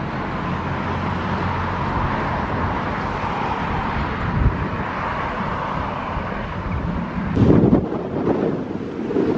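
Strong wind buffets the microphone outdoors, a constant loud roaring rush with gusts that swell briefly near the end, no voices heard.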